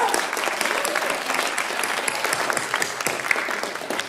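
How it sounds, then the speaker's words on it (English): Sustained audience applause at a writers expo community day, a dense, even wash of many hands clapping close and loud throughout. "Can you all give Wildcat Productions a big round of applause?"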